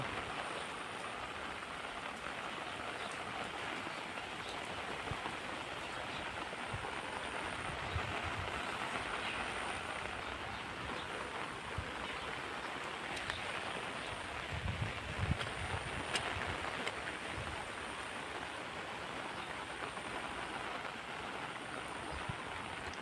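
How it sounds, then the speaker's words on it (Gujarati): Continuous rain pours down in a dense, even wash of noise, moderately quiet, with occasional louder patches and no speech. "ફૂલ વરસાદ આવે છે"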